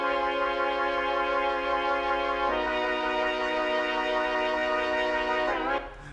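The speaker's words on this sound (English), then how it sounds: "I decided to throw in this old school sounding flute, which is like a mellotron sound." An old-school flute synth with a mellotron-like tone holds sustained notes in a breathy, steady tone that shifts pitch once midway, clear and alone without talk.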